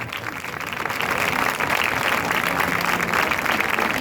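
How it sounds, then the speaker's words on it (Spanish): Audience applause at a Valencian falla preselection gala, honouring a falla president; steady, fairly loud clapping that swells after the first half second and holds without a break, with no speech over it. "Un aplauso para ella."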